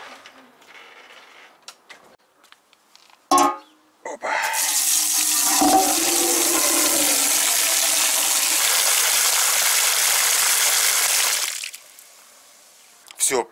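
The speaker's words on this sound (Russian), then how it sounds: "Сейчас полную кастрюлю налью воды и на улице постоит." A cooking pot is filled to the brim from a tap outdoors, with steady gushing water running loud and continuous for about seven seconds after a few brief knocks, then stopping.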